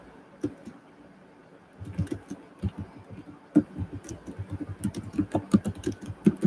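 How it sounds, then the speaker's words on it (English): Quiet keyboard typing: a few isolated clicks, then quick irregular bursts of keystrokes that grow busier and louder toward the end. "I'm typing something here"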